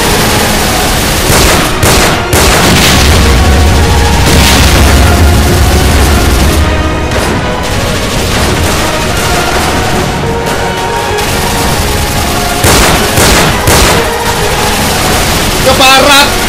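Historical battle reenactment with gunfire, dense loud bursts and booms layered over shouting and crowd noise, continuous and chaotic throughout.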